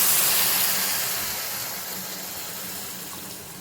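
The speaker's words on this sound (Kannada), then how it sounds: "ಅದಕ್ಕೆ ಒಂದು ಬೌಲಷ್ಟು ನೀರು ಸಹ ಆ್ಯಡ್ ಮಾಡ್ತಾ ಇದ್ದೀನಿ" Water poured from a bowl into a pan of milk on a festival day, a steady close hissing pour that slowly fades over a few seconds, with no talking.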